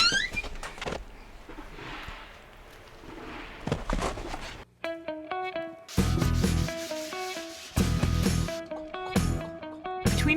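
A wenge wood pizza peel being sanded, with soft, irregular rubbing strokes at first, then louder scraping passes and a squeaky, stuttering rhythm in the second half, up close.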